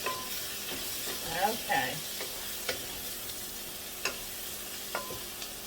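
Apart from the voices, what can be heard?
stirring sizzling sausage and onions in a pan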